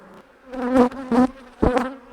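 Honey bees buzz loudly at close range around an open hive, a dense droning hum that swells in several bursts as they swirl around.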